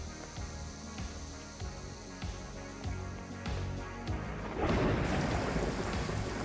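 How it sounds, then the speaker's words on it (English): Rain and thunder in the video game Paradise Killer, with steady rainfall, a regular rhythmic patter and a rumbling swell of thunder toward the end, heard without talk. "Rain again."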